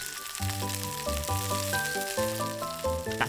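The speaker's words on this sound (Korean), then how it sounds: "지글지글 소리 들으면서 귀로 먼저 음미해줄 시간." Korean jeon pancakes fry in oil in a pan, giving a steady, soft crackling sizzle beneath a louder melody of bright musical notes.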